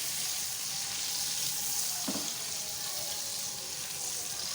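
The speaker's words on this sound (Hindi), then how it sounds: "सबसे पहले प्याज डाल दें, अच्छी तरह से गोल्डन ब्राउन करना है प्याज को" Finely chopped onion sizzling in a pan for aloo chicken curry, a steady bright hiss throughout with one brief clink midway.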